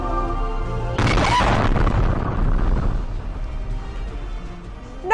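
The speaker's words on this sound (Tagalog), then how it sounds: "Nakunan sa dashcam ng isang sasakyan ang aktwal na pagsabog." A restaurant explosion in China, caught from a vehicle's dashcam: a sudden loud boom bursts in after about a second, then a long roaring rumble and debris noise that slowly fades over several seconds.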